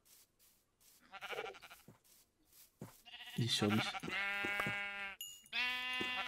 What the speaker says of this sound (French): Faut pas que j'oublie les moutons, ils drop de la viande maintenant.